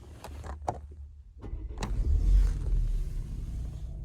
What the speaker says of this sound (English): While you hold this button, push your brakes and start the car.